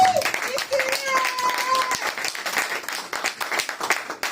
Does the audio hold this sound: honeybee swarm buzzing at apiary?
no